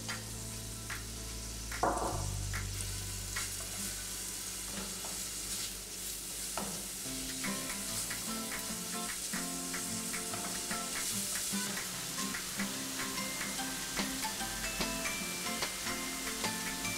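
Onions sizzle and fry steadily in a pan of hot oil and butter, with a clank of a utensil near the start and occasional stirring.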